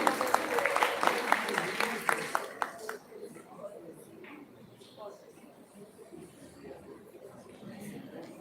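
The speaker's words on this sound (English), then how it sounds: "Everybody, can we have a huge round of applause" A summit audience claps, with dense applause and scattered crowd chatter for the first three seconds. The clapping then fades into quieter room murmur and some voices.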